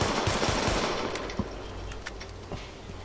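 Gunfire in the video game Tom Clancy's The Division, a dense rattle of shots at the start that thins to scattered single cracks, with continuous game background noise and no speech.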